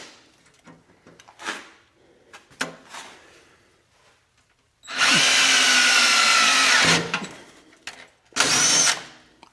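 A power drill bores a bolt hole for M8 bolts on a mini excavator build, heard as two loud bursts of whirring, a longer one and a short one, after scattered knocks and handling clatter.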